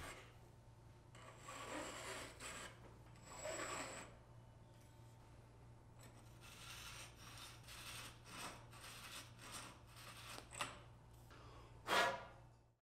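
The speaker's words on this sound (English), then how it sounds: "For metal bars, use a file or deburring tool to clean up the end." Metal file rasping across the freshly cut end of a metal bicycle handlebar, a series of quiet scraping strokes with a louder final stroke near the end, heard close and alone.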